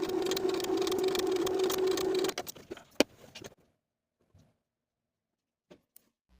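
A sewing machine runs steadily while stitching darts on a raglan sleeve top, a loud even whir for about two seconds that stops abruptly, followed by a few faint clicks and handling noises in near silence.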